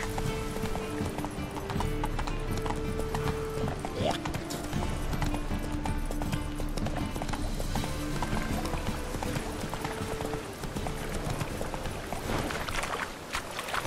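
Roach, the horse in The Witcher 3, gallops with steady clip-clopping hooves amid dense game music and ambience, continuous throughout at moderate level.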